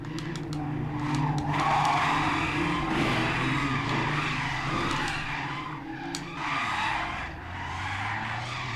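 A bus spins out in the racing game Assetto Corsa, producing continuous loud tire skidding and squealing over a steady engine roar that lasts throughout.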